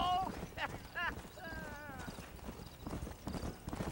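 A horse gallops in the Western video game Red Dead Redemption, with rapid rhythmic hoofbeats and a whinny near the start, close and moderately loud, while a voice talks faintly underneath.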